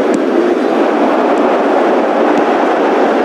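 Football video game stadium crowd gives a loud, dense, continuous roar with no breaks or distinct voices standing out.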